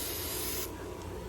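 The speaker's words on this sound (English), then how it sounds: "then we're just gonna spray it down" An aerosol spray can hissing steadily onto old engine parts from a 30-year-old Honda, close and continuous for about half a second before softening, with a brief clunk at the end.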